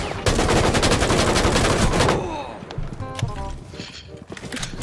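Rapid automatic gunfire from the video game Rainbow Six Siege rattles loudly for about two seconds, then thins into scattered shots and game sounds, with players' voices over it.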